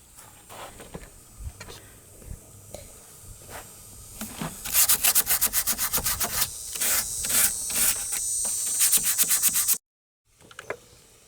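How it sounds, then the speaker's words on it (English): Close hand sanding of wood filler patches on a furniture nightstand, scratchy strokes that start sparse then speed into a fast steady rhythm before stopping abruptly. "Now, to address sanding down the places where I've patched, and then wipe it down,"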